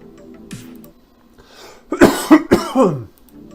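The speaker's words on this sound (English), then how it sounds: "I'm going to mute myself really quick so I can cough." A few harsh, close coughs in quick succession, after a quieter throat sound, with rough breathy bursts.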